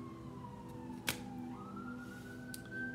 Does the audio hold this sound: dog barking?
no